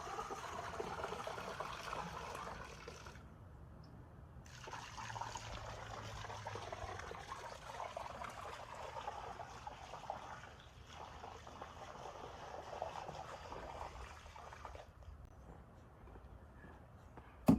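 Chlorine, about 2.5 gallons, pours into a swimming pool as a soft, continuous watery gush and trickle, fairly faint and steady throughout with a brief dip partway, no talking.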